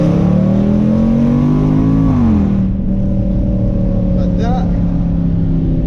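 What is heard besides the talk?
Range Rover SVR engine revving and accelerating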